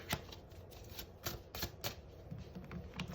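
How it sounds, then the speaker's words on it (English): Tarot cards being shuffled quickly by hand, a series of crisp riffling flicks and taps in short irregular bursts, close and fairly quiet with no talking. "So let's just give these a real quick shuffle."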